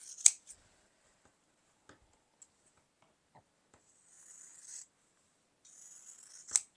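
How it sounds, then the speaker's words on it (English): A few sharp snips and rasping slides of scissors cutting quilting fabric, close and isolated, with quiet gaps between cuts. "I'm just going to take a scissors and I'm just going to cut"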